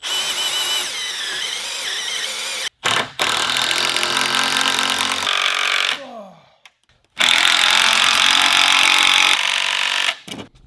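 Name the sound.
drilling pilot holes with a drill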